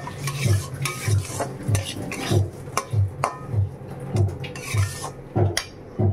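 Semolina (suji) with butter stirred in a pan, rhythmic spoon scrapes about twice a second, loud and close, over a soft sizzle with occasional metal clinks, no talking.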